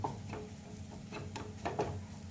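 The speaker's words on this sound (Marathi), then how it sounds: "हे बाइंडिंग येण्यासाठी आपल्याला बेसन पीठ घालायचं आहे. त्याला व्यवस्थित थोडंसं भाजून घेऊया." Gram flour roasting in a pan for a pea kachori filling, heard as quiet soft scraping and stirring strokes with a faint background sizzle, a few distinct spatula scrapes spaced irregularly.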